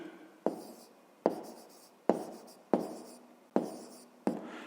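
A pen scratches across paper in six sharp, evenly spaced strokes while numbers are written out for a fifth-grade maths exercise, close and clear with no talking.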